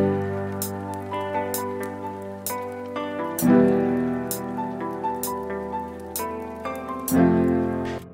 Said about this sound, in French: On entend les petits craquements. La petite pluie.